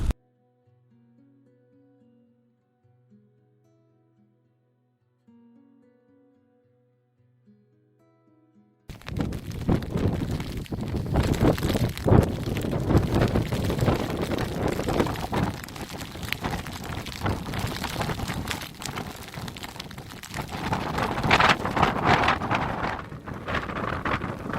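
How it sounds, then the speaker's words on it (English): Strong wind buffets the microphone outdoors in Iceland, a loud roaring rush that starts abruptly after a quiet opening and keeps gusting steadily to the end. "I'm going to get out this wind because it's blooming freezing"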